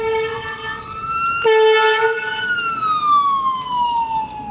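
An ambulance siren wails loud and close, its steady tone with a short blaring burst in the middle sliding downward in pitch as it passes, with no talk.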